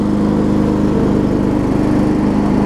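A John Deere 125 riding lawn mower engine runs steadily, a loud, even, droning hum close by with no change in pitch or pace throughout.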